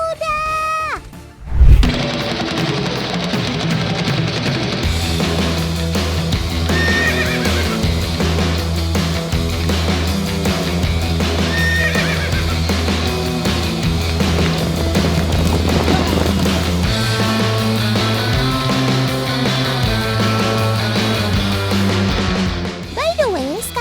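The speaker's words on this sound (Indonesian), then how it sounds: "Kebetulan sedang diadakan lomba pacuan kuda skala nasional." Horses in a national-level horse race in Sawahlunto, West Sumatra, neigh loudly at the start, then galloping and crowd noise build into a continuous loud wash under music.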